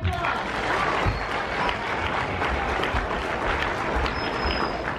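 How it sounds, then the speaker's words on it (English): Loud, dense applause from a school audience of children at an elementary school, greeting dance performers, with cheering voices mixed in, sustained steadily for five seconds. "Let's give them a big round of applause."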